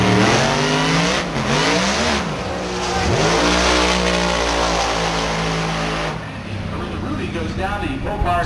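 A Pro Mod drag racing car with a traditional 427-inch engine roars loud and close at an NHRA meet at Gateway Motorsports Park, its revs climbing in rising sweeps before the engine note fades as a commentator talks over it.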